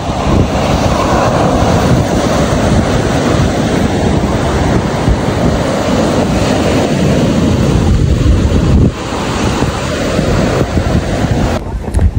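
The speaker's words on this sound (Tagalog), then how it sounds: "Ang ganda pa ng alon" Ocean waves roll onto a beach close by, a loud continuous surf roar with broad rushing swells, heavily buffeted by wind on the microphone.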